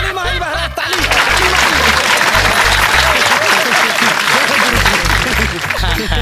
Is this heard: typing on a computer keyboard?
no